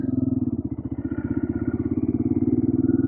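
An off-road motorcycle ridden through Algeria gives a steady, close engine drone with a fast, even pulsing beat that holds at a constant pace throughout, with no talk.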